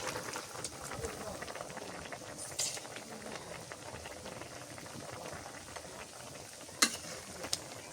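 Fried fish added to a frying pan and stirred, giving a low continuous sizzle and bubbling with scattered scraping and a couple of sharp clinks near the end, faint and close.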